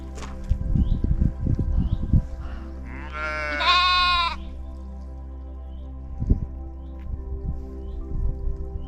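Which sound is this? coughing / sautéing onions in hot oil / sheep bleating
sheep bleating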